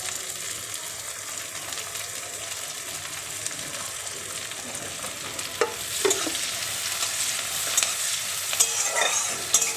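Chopped onion and dried chilies sizzle and fry in a pan with a steady crackling hiss, joined by occasional scraping stirs that grow busier toward the end.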